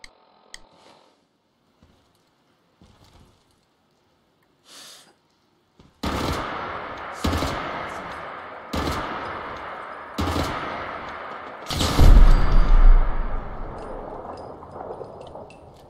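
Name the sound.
7.62 gunfire at a turret in video game Fallout 4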